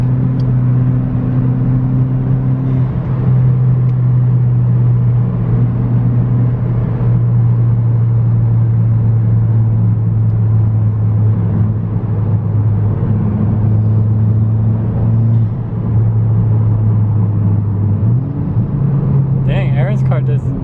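Remote-control cars racing on a track and taking curves, one supercharged V8 against a turbocharged four-cylinder, give a steady close motor whir with rising and falling pitch throughout, no voices heard.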